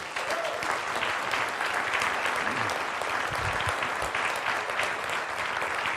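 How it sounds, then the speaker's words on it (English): Sustained applause from a conference audience honoring the doctors at a low-carb conference, a steady dense wash of clapping at even loudness throughout. "let's just give all the doctors here one more round of applause"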